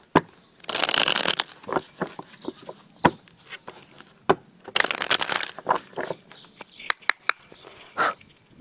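A tarot deck is shuffled by hand in two long riffling bursts, separated by scattered card taps, slaps and rustles, close and crisp with no talking.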